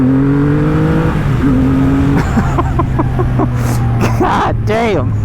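A Triumph Rocket 3 motorcycle accelerates hard in first gear, its loud engine note climbing in pitch, heard up close with wind and a voice talking over the roar.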